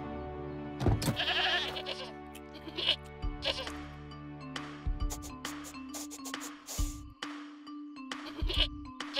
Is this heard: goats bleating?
yes